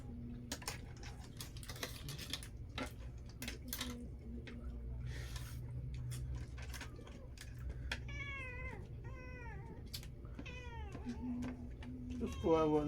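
A hungry cat meows several times in short rising-and-falling calls, close and clear, with clattering and tapping noises and a person talking in between.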